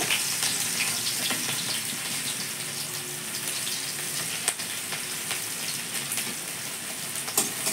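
Chopped green chilli, ginger and garlic fry in hot oil in a kadai, giving a steady, loud, close hiss and sizzle with a few sharp pops. Nobody speaks.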